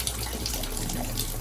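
Water running steadily from a shower valve fitted with a new Delta replacement cartridge, a constant soft hiss and spatter with no talking.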